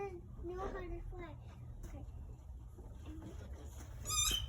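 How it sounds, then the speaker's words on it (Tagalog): A small bird chirps in a backyard in short, faint calls, with a brief, brighter burst near the end. A child and an adult talk over it throughout. "I hear chirping."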